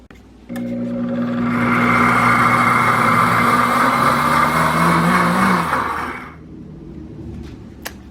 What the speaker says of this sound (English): what the blender is doing now is heating the pectin